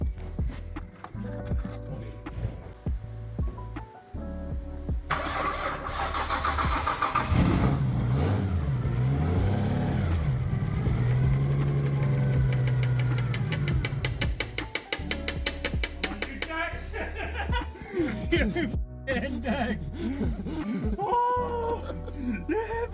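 A rebuilt car engine cranks, catches and runs, its loud idle rising and falling with revs, while people laugh and talk nearby.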